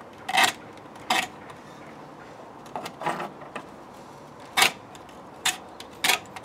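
Rose stem cuttings scraped at their cut ends, giving a series of short, dry rasping strokes in irregular bursts, fairly close and with quiet pauses between them.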